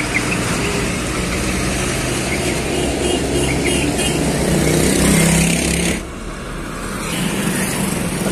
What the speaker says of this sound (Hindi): निकलने की सोच रहा हूँ भाई पर ट्रैफिक देख सकते हो कितना भयंकर